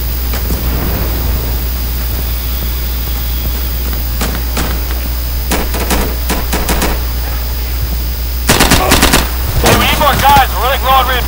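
Steady background hum broken by scattered bursts of rapid gunfire in the video game Insurgency, growing denser near the end, with faint chatter underneath.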